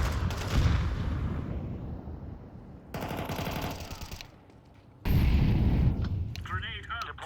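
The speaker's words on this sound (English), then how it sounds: "Throwing a grenade." Grenade blasts and gunfire in Counter-Strike on the de_train map: loud, dense bursts of booming explosions and rattling shots come in three waves separated by brief lulls, with voices talking underneath.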